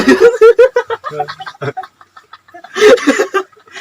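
Chickens cluck near a village home in a Sundanese rural film scene, a few bursts of clucking at the start and again near the end, close and fairly loud, with quieter pauses between.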